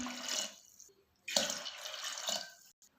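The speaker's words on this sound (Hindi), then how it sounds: "और अब फिर से मैं इसके अंदर 1 लीटर पानी डाल रही हूँ" A litre of water is poured into a container of soaked wheat, coming in two splashing bursts: a short pour, a pause, then a longer gurgling stream that tapers off with a final trickle.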